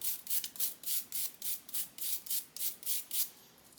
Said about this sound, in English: brush the burr off